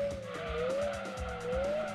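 A Mercedes race car drifting through a corner in Gran Turismo 2, its tires squealing in a steady wavering whine over the rumbling engine, loud and close for about two seconds.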